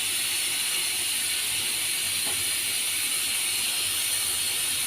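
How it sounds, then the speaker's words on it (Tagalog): Hot steam hisses steadily out of a pressure cooker as its lid is removed while cooking mutton biryani, a broad continuous rush that stays even and close with no talking over it. "pag nagtanggal kayo nito sa pressure cooker, ay mag-iingat po kayo kasi lalabas yung pinaka mainit na hangin galing sa loob ng pressure cooker"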